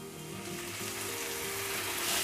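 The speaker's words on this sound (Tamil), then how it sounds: "தக்காளியும் கொஞ்சம் வதங்கணும்" Tomatoes and onions fry together in a pan for a chicken curry, a dense steady sizzle that slowly grows louder over a couple of seconds, with a faint hum beneath and no talking.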